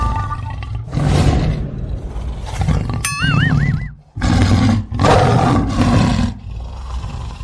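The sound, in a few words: tiger roaring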